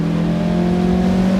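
Engine of a homemade restomod Fiat X1/9 under way, a steady mid-pitched hum holding constant, close and continuous through the short stretch with no talk.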